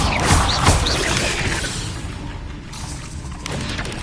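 Blasting spell explosions in a Harry Potter video game, a loud burst and crash up front that fades into a rumbling, whooshing tail with smaller thumps later.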